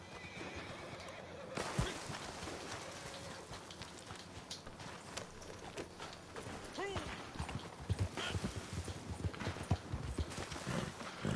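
Horse hooves clip-clopping in Red Dead Redemption 2 online, with the horse neighing and whinnying among game noise, and gunfire and a voice talking over it.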